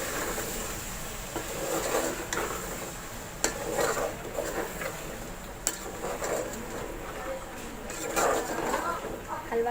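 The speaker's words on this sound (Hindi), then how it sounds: "कद्दू डालकर मैं इसको अच्छी तरह से भून लूँगी" Pumpkin pieces roast in a pan for halwa, with steady soft sizzling, scraping stirs and occasional sharp clinks of a spoon on metal, while someone talks over the cooking.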